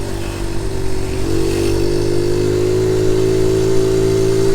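A Honda Monkey Z50 J1 motorcycle rides through Appledore, North Devon, its small engine a loud, steady close drone that climbs slightly in pitch partway through, with no talk.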